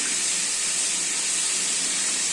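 Chopped ash gourd, salted and coated in turmeric and giving off water, sizzles in a hot pan as it is sautéed, making a steady, close, even hiss with no pauses.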